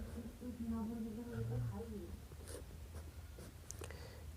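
A pen writes an answer by hand during a maths lesson, producing faint scratching strokes under a voice as he talks through the problem.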